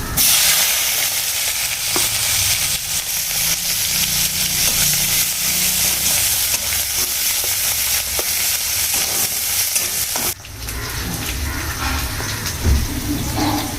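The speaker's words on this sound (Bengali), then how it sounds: "প্রথমে একটু জিরে দেব, তারপরে এই পেঁয়াজ কুচনোটা দেব।" Cumin and chopped onion frying in hot oil in a pan, a loud, dense hiss that runs steadily, drops briefly near the end, then carries on with faint stirring.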